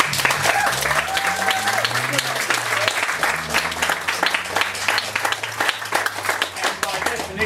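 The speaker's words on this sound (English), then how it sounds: "how about a big round of applause for Brett and Pat" Audience applause for the writers at a one-act play performance, brisk continuous clapping from a crowd with a voice speaking over it.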